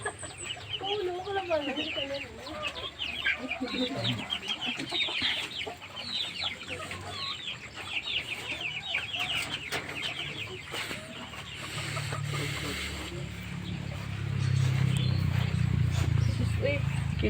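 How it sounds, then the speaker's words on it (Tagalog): Large roosters and chickens cluck and squawk repeatedly, close and busy at first, then thinning out, with someone talking over them and a low rumble rising near the end. "Ito mga malalaking manok."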